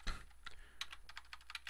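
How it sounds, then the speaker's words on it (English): Soft, fairly quiet keystrokes on a computer keyboard, a quick irregular run of clicks filling the moment with no one talking. "Now, when you start typing in your text,"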